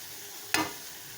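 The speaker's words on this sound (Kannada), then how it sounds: "ಇವಾಗ ಸೋಯಾಬೀನ್, ನಾನು ಚಿಕ್ಕದಾಗಿ ಕಟ್ ಮಾಡಿ ಇಟ್ಕೊಂಡಿರೋ ಸೋಯಾಬೀನ್ ಹಾಕಿ" Chopped soybean tipped into a pan of boiling liquid gives one sudden loud splash-sizzle that briefly flares and then settles back into a steady low simmer.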